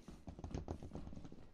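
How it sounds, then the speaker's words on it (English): Fast, heavy monster footsteps rushing in the game Lethal Company, a rapid run of thudding steps that sounds loud and close and continues steadily throughout. "And I hear it running up to me."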